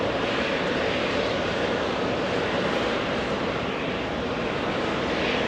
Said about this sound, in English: The engine sound overpowering the little scanner.